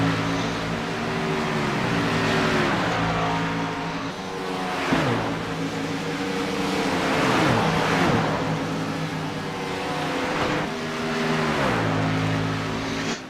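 Stock car engines drone and rev continuously around an oval at Charlotte in a racing video game, pitch rising and falling through shifts and turns, with several cars close and loud, no talking.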